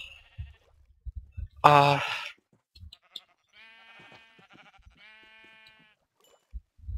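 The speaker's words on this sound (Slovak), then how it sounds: "A tam vidím ďalšie ovce." Sheep bleat in Minecraft, with a couple of wavering, drawn-out bleats in the middle of the clip, a sharp louder burst of noise just before them, and a person briefly starting to speak.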